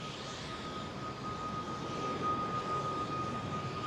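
Finnair Airbus A350 departing overhead from London Heathrow, a faint, steady jet rumble with a thin whine that swells slightly as it passes.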